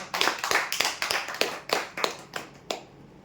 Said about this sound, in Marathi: जोरदार टाळ्या होत्या